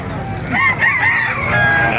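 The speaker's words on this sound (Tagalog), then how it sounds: "Napakarami pang manok dito." Several roosters crow loudly and overlap at a chicken market in Calumpit, Bulacan, with hens clucking and the murmur of people talking in the busy background.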